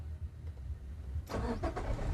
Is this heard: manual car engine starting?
yes